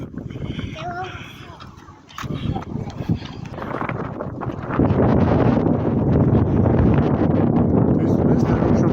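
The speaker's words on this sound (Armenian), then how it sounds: "Տեսնես դրոշը ոնց է ծածանվում, քամին ոնց է։" Strong outdoor wind roars and buffets the microphone in gusts, building louder and denser toward the end, with a flag flapping somewhere in the rush of air.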